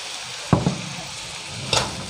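Pork belly with red chili paste and long beans stir-fried over medium heat, giving a steady soft sizzle broken by a couple of brief spatula scrapes and stirs close by.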